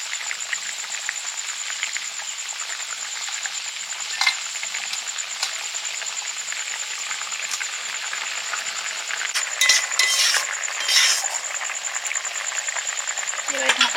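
Fried parshe fish go into a boiling mustard curry, giving a steady, bright sizzle with occasional clinks and stirring bursts, while a voice speaks intermittently over the cooking.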